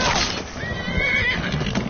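A horse in Skyrim gives a short, high whinny amid hoof clatter and game ambience, fairly close and loud.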